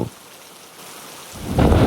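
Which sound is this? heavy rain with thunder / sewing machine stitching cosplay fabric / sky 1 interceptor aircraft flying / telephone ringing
heavy rain with thunder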